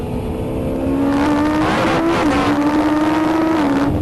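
A Noble M600 or Ariel Atom V8 driven hard in third gear at the Nurburgring, its engine holding a loud, steady droning note that climbs slightly and dips as it shifts, close and continuous.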